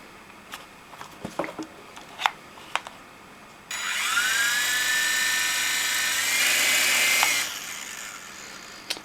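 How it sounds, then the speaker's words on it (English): A GoolRC remote control helicopter spins up after a few faint clicks and handling knocks. It runs as a loud, steady, high-pitched electric whine for about four seconds, its pitch shifting slightly, then cuts off. "we then turn on the helicopter and see"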